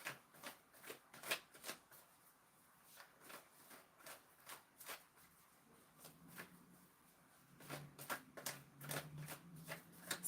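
Tarot cards being handled and shuffled from the deck during a love reading, with soft repeated papery flicks and riffles close by, busier toward the end, and no voices.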